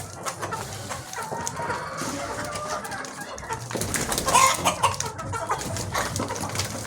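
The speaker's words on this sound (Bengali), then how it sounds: "ক্রুশ মোরগ যেটাকে বলে," A coloured cross-breed rooster of the kind that reaches 5 to 7 kg clucks with other chickens in a poultry setting, the calls close and fairly loud, rising in a busier burst midway over a steady background of farm noise, without speech.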